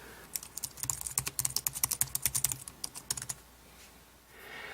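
Crisp, rapid keystrokes tapped out on a Logitech K760 wireless solar keyboard paired to an iPhone, a fast irregular run of clicks for about three seconds, close and clear, then quiet room tone with no talking.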